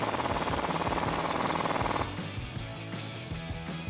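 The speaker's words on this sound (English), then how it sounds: "we can also tighten down the U-bolt" A power tool tightens a U-bolt with a 19mm deep socket during a Teraflex lift kit install on a 2-door Jeep Wrangler JK. A loud, close, fast rattling hammer runs for two seconds, then eases into a quieter mechanical whir.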